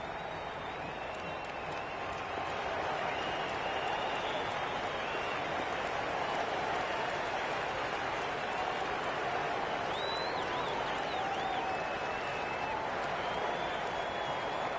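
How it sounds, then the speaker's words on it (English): Stadium crowd in the cricket video game Cricket 26 cheering and applauding in a continuous loud roar, with a few whistles rising above the wash of noise. "The crowd is electric right now."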